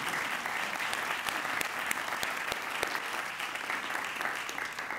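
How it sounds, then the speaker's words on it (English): Audience applause at a religious lecture, sustained dense clapping from a crowd with sharp individual claps standing out, steady and fairly loud for the whole stretch. "Can we give her a round of applause for that?"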